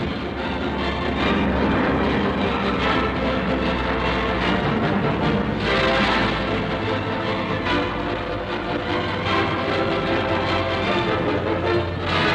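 Aircraft flying over a German naval formation in 1944, a continuous heavy engine drone with a broad rumbling roar holding steady throughout.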